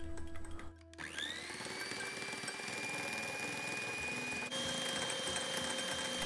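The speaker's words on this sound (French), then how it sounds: "on va battre ça au batteur électrique" An electric hand mixer beats old-style mustard and salt in a bowl, giving a steady, close whine that starts after a brief pause, rises in pitch and holds, then shifts slightly higher.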